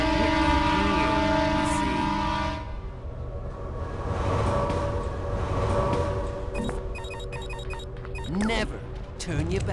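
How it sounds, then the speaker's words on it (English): A train rumbles past in the video game Red Faction 2, a broad rushing roar that swells and fades over several seconds, joined by short horn-like tones and metallic clatter, with a voice talking over parts of it. "Never turn your back on a train. They kind of sneak up on you."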